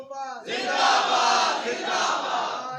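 A large crowd at a religious gathering shouts a Khatm-e-Nubuwwat slogan in unison, a loud, sustained massed roar that swells after a brief lead-in and holds strongly for over two seconds.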